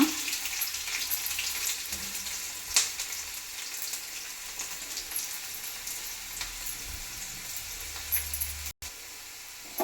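Curry leaves and crushed garlic frying in hot oil in a pan, a steady close sizzle and crackle running throughout with a few sharper pops, no voices.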